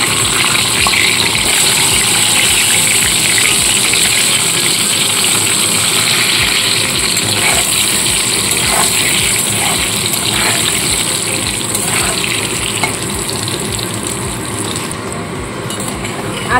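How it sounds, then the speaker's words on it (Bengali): Boiled potatoes fry in hot oil for egg kosha curry in a steady, loud, broadband sizzle that continues throughout, with faint clinks now and then. "এবার এই তেলের মধ্যে সেদ্ধ করে রাখা আলুগুলো ভেজে নেব।"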